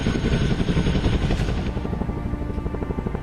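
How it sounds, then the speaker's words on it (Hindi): A twin-engine Apache attack helicopter flies by, its low rotor thump pulsing steadily under a loud engine roar that thins out slightly toward the end; no voices. "अपाचे हेलीकॉप्टर एक बार में 2 घंटे 45 मिनट तक उड़ान भर सकता है"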